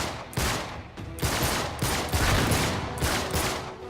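Rapid bursts of gunfire in the video game Uncharted 3, loud, close and sustained, with repeated volleys that overlap into a steady fusillade.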